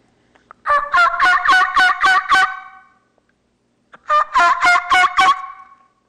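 Wild turkey triple yelps imitated on a mouth diaphragm call, two bursts of rapid, raspy, evenly spaced yelps, loud and close, with a short pause between the bursts.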